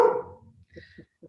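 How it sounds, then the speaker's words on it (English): A pet dog barks a few short, sharp times at moderate distance, spaced out with pauses, following a brief burst of speech at the start. "That's my dog."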